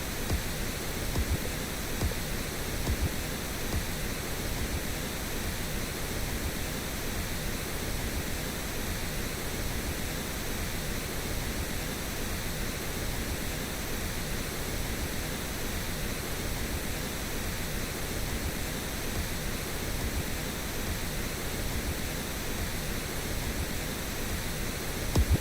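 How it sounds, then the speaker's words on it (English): Steady pink noise plays alone throughout, with a kick drum audible through it during song mixing. "that kick is very clearly poking out of the whole pink noise situation"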